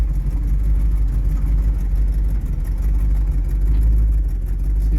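A 1973 Chevrolet Cheyenne C10 pickup with a 454 engine drives along, its deep, steady engine rumble continuing at close range as it moves through the gears.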